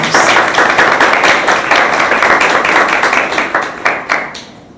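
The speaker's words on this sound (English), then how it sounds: "Can I hear a round of applause for the teams?" A debate audience applauds the competing school teams, dense loud clapping from many hands close by, fading slightly toward the end with a few distinct claps near the finish.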